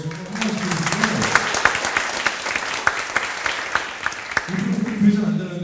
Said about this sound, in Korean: 여러분 이 아주머니한테 박수 한번 주세요.